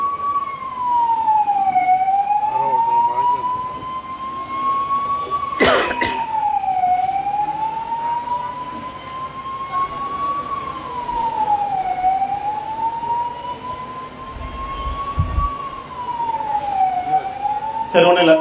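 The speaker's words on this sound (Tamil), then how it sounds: "ஆம்புலன்ஸ் வருது, அதுக்கு இடைஞ்சல் இல்லாத அளவுக்கு பார்த்துக்குங்க." An ambulance siren wails in a continuous rising and falling pattern through the whole stretch, loud and close, with crowd noise and a brief burst of other noise beneath it at a street gathering in Kumbakonam.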